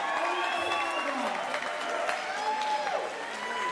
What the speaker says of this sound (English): Let's have a round of applause for your champion, Justin Arteaga.